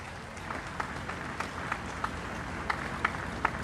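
Steady crowd applause for an honor guard and flag parties at a ceremony in Barbados, with scattered sharper claps, moderately loud and continuous throughout, heard from a distance in an open space.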